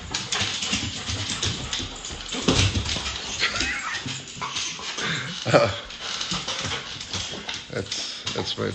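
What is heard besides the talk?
dog whimpering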